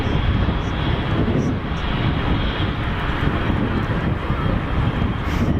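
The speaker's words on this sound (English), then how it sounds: "very rare you get a duff landing from easyJet" An easyJet airliner landing at Geneva Airport produces a loud, continuous jet roar with some wind buffeting, sustained without a break across the whole stretch.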